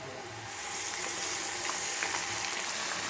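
Oil sizzles steadily in a pan as a tempering fries for menthi aaku pappu, a fenugreek leaf dal: a loud, close, continuous hiss with no voices.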